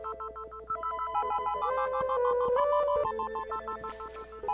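Phone ringtone from an incoming FaceTime audio call, a bright repeating electronic melody playing loud and close for several seconds.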